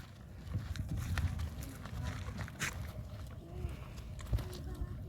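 Marwari mare's hooves clip-clopping close by as she is turned and handled, irregular steps over a low rumble of background noise with people speaking now and then.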